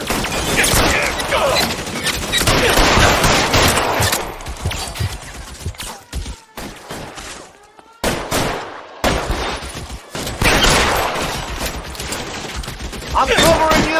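Rapid suppressing gunfire in the video game L.A. Noire, dense bursts of automatic fire with scattered single shots, loud and close, with a brief lull mid-way before heavy shooting resumes.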